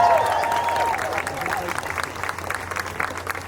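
Audience applause at a media party for Guardians of the Galaxy: Cosmic Rewind, a crowd clapping steadily over background music and crowd murmur, fairly loud throughout with a brief tone at the start.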